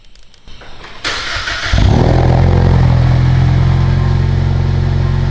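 A Ford Mustang EcoBoost engine starts warm: a short starter crank, then the engine catches loudly and settles into a steady, close, rumbling idle with no talk over it.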